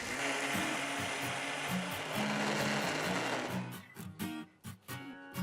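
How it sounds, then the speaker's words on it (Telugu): A mixer grinder whirs loudly and steadily as it grinds soaked urad dal in the jar with no water added, then the motor sputters into short, uneven bursts near the end. "మిక్సర్ జార్లో ముందుగా నేను నానబెట్టిన మినపప్పుని వేస్తున్నాను ఇందులో ఏమాత్రం నీళ్లు పోయకుండా ఒక్కసారి రుబ్బాలి"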